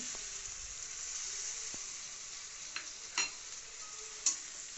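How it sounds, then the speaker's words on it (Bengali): Garlic and ginger paste frying in a pan with steady sizzle, stirred with a few sharp scrapes of a utensil against the pan near the end; no talking. "পরে দেয়া হচ্ছে রসুন বাটা আদা বাটা পরিমাণ মতন"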